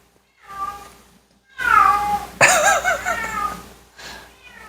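A house cat meows several times in a kitchen, with drawn-out, rising and falling cries and one sharp, loud yowl, close to the microphone with quiet gaps between calls.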